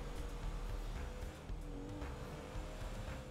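A tuned car engine revs and drones in GTA 5 Online, with rising and falling throttle and faint tire squeal, no talking.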